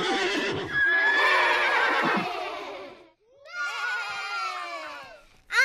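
A horse neighs loudly in two long, quavering whinnies separated by a brief pause, close by, with a short snort at the end.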